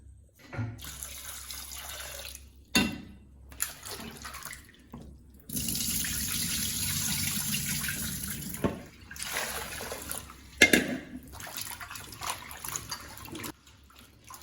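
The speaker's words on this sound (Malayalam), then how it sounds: "കൊത്തി നുറുക്കി വെള്ളത്തിലേക്കിട്ട് ഇനി ഒന്നോടെ ഒരു രണ്ട് പ്രാവശ്യം കൂടി കഴുകിയിട്ട്" Chopped tapioca pieces washed in water, with bursts of running tap water and sloshing, splashing handling in a sink between quieter pauses, close by and with no talking.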